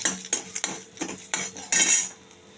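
Ginger and cumin powder stirred in oil in a pan, a utensil scraping and clinking against the metal in a rapid irregular series of close strokes, with no voices.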